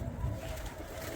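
Pigeons coo quietly as the flock leaves the loft, low muffled cooing running through the whole moment with no talk.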